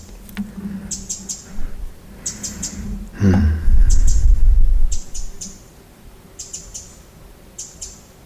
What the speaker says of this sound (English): I love that bird sound.